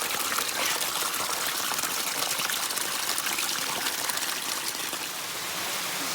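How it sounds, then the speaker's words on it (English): Spider Lake waterfall pours in a steady, full rushing hiss of falling water, close and constant throughout with no breaks or voices. "Spider Lake waterfall."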